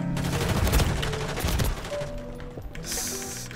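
Bursts of rapid Call of Duty gunfire crackle loudly in dense volleys, then fade into scattered electronic tones and a brief hiss.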